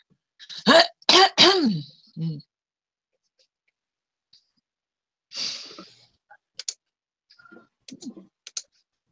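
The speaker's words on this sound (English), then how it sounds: "You still have a strong cough" Two or three sharp, close coughs in quick succession, followed by silence and a few faint clicks and a breathy sound.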